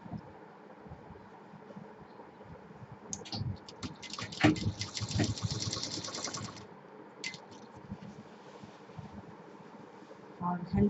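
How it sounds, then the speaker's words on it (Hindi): A sewing machine stitches folded fabric piping onto a DIY fabric basket, a rapid mechanical run of a few seconds in the middle, surrounded by quieter handling and rustling sounds. "और अब ये पाइपिंग हम मोड़ के सिलना शुरू कर देंगे।"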